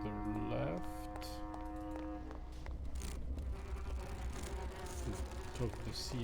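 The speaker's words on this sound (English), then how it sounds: "These bees don't seem too busy." Buzzing bees in the Grim Fandango video game, a steady insect drone that runs under in-game music and tones throughout, moderately loud with constant hum.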